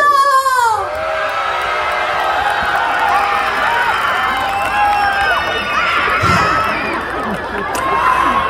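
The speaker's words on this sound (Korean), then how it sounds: "함성 질러!" A crowd of elementary schoolchildren at an outdoor concert in Sangju shouts and cheers loudly and continuously, a dense wall of young voices after a brief spoken cue at the start.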